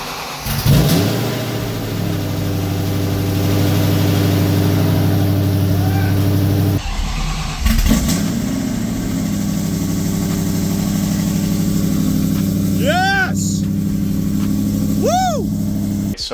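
A Mercury Marauder with a swapped modular 4.6 V8 from an SVT Terminator cranks over, catches and settles into a steady, loud idle with a brief blip partway through; a few high squeals come near the end.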